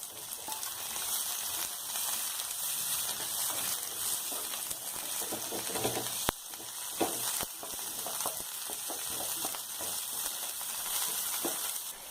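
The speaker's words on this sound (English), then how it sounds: "I'm gonna lightly fry them" Chopped capsicum and finely chopped garlic fry lightly in a pan with a constant, bright, close sizzle, broken by a couple of sharp clacks from a stirring spoon.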